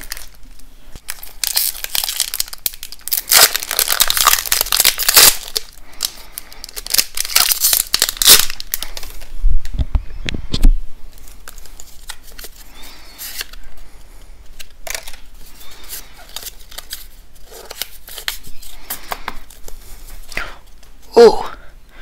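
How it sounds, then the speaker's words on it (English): Crinkling foil and tearing of Pokémon TCG booster pack wrappers, close by, in bursts of rustling with card handling between, and a few quiet spoken moments. "So let's get into these booster packs."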